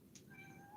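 A kitten gives a short, thin meow close by, a single high cry over low background hum.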